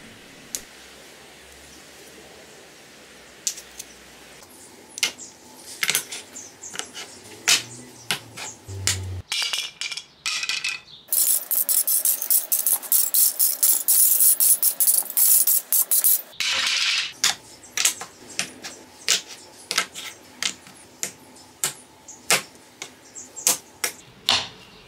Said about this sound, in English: Now to cut another 90 odd tiles.